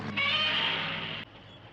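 A single cat meow, a drawn-out tonal call lasting about a second, close and clear, cutting off abruptly against a quiet background.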